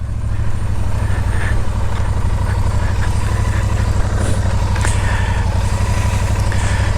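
A Royal Enfield Shotgun 650 motorcycle rides along a road, its twin-cylinder engine giving a loud, steady throbbing drone with constant wind rush and no change in pace.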